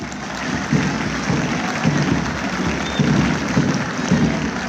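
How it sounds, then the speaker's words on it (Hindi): A stadium crowd applauds children parading past the salute stage at state school games, a broad wash of clapping with rhythmic swells, heard from a distance and with no speech. "जोरदार तालियां इन बच्चों के लिए।"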